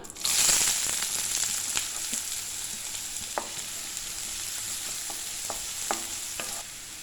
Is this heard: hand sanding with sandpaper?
no